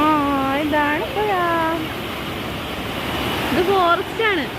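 A river flowing through a forest gives a steady broadband rush of water that runs under people's voices talking close by for the whole stretch.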